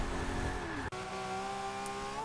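A car engine drones steadily with tonal whine and tire noise while drifting in Forza Motorsport 6, a brief cut midway, a sliding sports car in a racing game.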